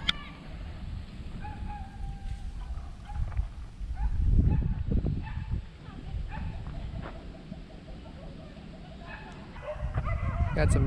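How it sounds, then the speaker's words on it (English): Several dogs snarl, yip and bark in a fight off at a distance in rural Philippines, with a person talking nearby over the commotion. "Got some dogs fighting over there."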